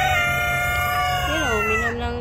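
A chicken gives a drawn-out crowing call with wavering tones, close by, over a low background rumble, without talk.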